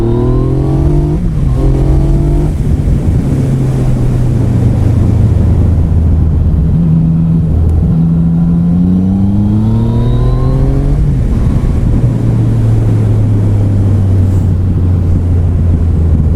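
A 2017 Yamaha MT-09 (FZ-09) motorcycle accelerates hard in third gear from about 3,500 rpm on an open heath road. The engine note climbs steadily in pitch, close and loud over wind rush, with no one talking.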